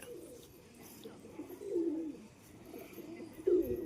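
Domestic pigeons kept for sale, including a nesting pair with eggs, give soft, low coos close by, in a few short bursts separated by quiet pauses.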